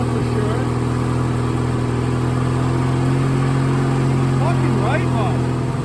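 Briggs and Stratton opposed twin engine, model 42270, running steadily at a constant idle with a strong low hum and faint mechanical chatter, needing carburetor tuning, continuous and close throughout.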